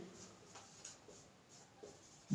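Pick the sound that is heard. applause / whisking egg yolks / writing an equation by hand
writing an equation by hand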